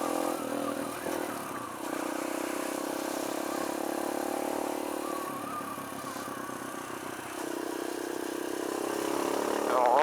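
A Kawasaki KLX140 dirt bike with a newly installed carburetor runs on its first test ride after some trouble starting. The engine gives a steady low-throttle drone that wavers and rises slightly toward the end.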